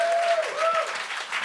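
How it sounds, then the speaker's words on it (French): A comedy roast audience at a stand-up show bursts into sustained applause, a broad wash of many clapping hands with a few whoops and crowd voices mixed in, fairly near and full. "On peut l'applaudir."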